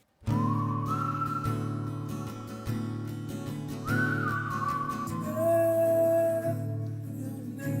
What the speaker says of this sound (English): That whistling makes me feel like I am a leaf falling from a massive oak tree.